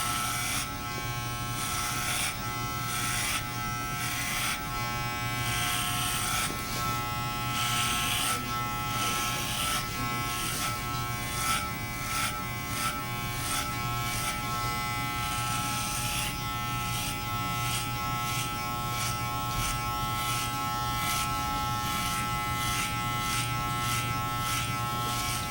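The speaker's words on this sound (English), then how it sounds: "So I'm going to take the number 2 clip and the 2 gauge and put on the machine and begin to cut backwards" Electric hair clippers with a number 2 guard cut hair with a steady, close buzzing hum that pulses in short rhythmic strokes as they pass over the head, continuing without pause.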